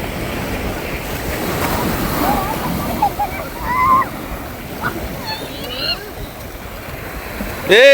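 Ocean waves washing onto a beach, a broad rolling surf roar with a swell building near the end, while people talk and call out over it.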